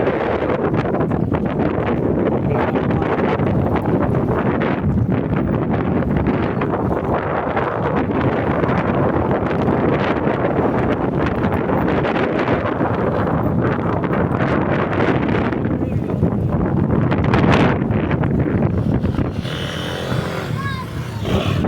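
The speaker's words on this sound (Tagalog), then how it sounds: "Napakalakas ng hangin." Strong wind roars across the microphone almost continuously at the Mega Dike in Malabon, a dense loud rush that eases only near the end.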